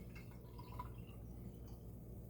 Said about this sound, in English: I am going to put in right at 250 milliliters of water